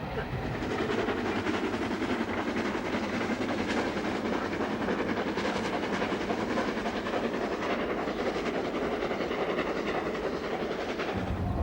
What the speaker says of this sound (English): it's travelling behind steam, Flying Scotsman, reliving the age of steam of yesteryear